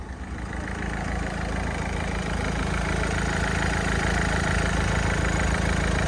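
A cold used car engine idles at an outdoor used-car market, a steady, moderately loud mechanical hum with an even low throb that settles in after a brief rise and holds without voices.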